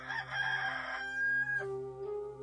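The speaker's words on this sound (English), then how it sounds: "and a rooster crowed." A rooster crows once in a long, loud, drawn-out cock-a-doodle-doo with a rising then falling tail, close and clear against a steady low hum.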